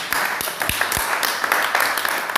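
A church assembly applauds in a dense, steady wash of many hands clapping, a bright crackling texture with a few sharper claps and low thumps standing out near the listener.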